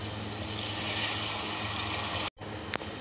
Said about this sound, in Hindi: अब मैं इसमें 1 कप पानी का शामिल करूँगी